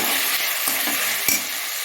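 Tomatoes sauté in a pan for a spicy village-style goat head curry, giving a steady broadband sizzle with a couple of brief stirring scrapes near the end, close and fairly loud with no talking.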